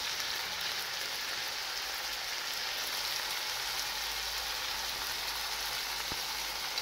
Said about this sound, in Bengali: তারপর তাতে দিয়ে দেব গাজরগুলোকে আমি আবারও 1 মিনিটের জন্য একটু নেড়ে চেড়ে ভেজে নেব